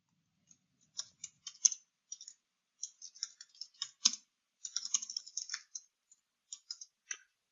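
Fingers type on a computer keyboard in a quiet room, with sparse clusters of crisp key clicks and short pauses, faint and close.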